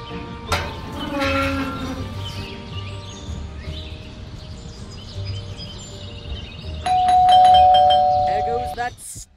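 Doorbell in the Scary Teacher 3D game, a bright chiming ring near the end over cartoonish game sounds and a speaking voice earlier on.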